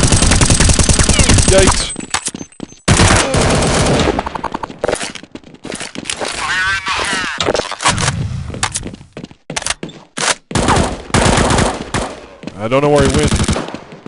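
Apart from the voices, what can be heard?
gunfire in video game Counter Strike 1.6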